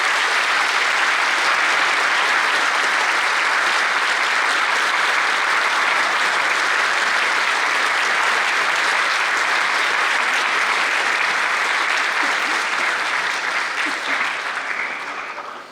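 A large audience claps loudly and continuously for about fifteen seconds before the applause starts to fade at the end.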